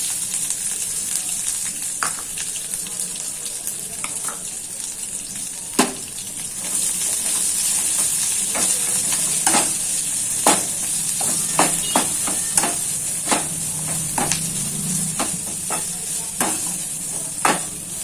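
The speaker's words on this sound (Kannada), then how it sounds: "ಈರುಳ್ಳಿ ಸ್ವಲ್ಪ ಬ್ರೌನ್ ಕಲರ್ ಆಗೋವರೆಗೂ ಫ್ರೈ ಮಾಡ್ಕೊಳ್ಳೋಣ ಎಣ್ಣೆಲೆ." Onions sizzle steadily in hot oil as they fry toward brown, with a constant frying hiss and scattered sharp clicks of a spoon stirring against the pan, close up and without speech.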